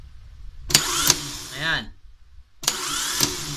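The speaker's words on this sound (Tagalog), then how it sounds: "Basta pag pinress ko to, dapat aabante yung pinion gear ninyo. Tapos, iikot naman ngayon si motor." A car starter motor and solenoid run on a bench test, throwing the pinion gear out and spinning it. Two sharp whirring bursts, close and loud, come with a short spoken word between them.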